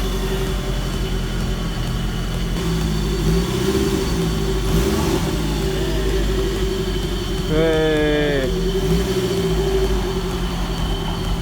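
An amateur-overhauled Nissan SR20 engine idling steadily in a Nissan Silvia with the clutch engaged to turn the wheels, a loud constant drone with a brief whirring rise midway and faint voices in the background.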